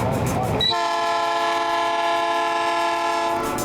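A train passing beside the bicycle memorial in Joinville sounds a loud, sustained horn blast close by, starting abruptly after a short rumble and holding steady to the end.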